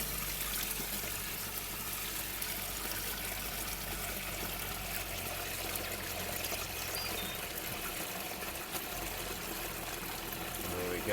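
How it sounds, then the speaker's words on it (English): Water rising inside an Oase Screenmatic 2 pond filter, a steady soft trickling and pouring wash that continues evenly throughout with no pauses, fairly quiet and close. "Now the filter's not discharging or not draining away, so that the water level's going to rise."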